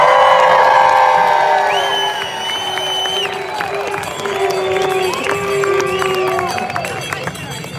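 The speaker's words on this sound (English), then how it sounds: "I want to give them a nice, warm, giant Stanley Cup cheer" A rally crowd at a Freedom Convoy gathering in Victoria, BC cheers loudly for protesters, with sustained whoops, shouts and high voices rising over a dense roar that holds steady throughout.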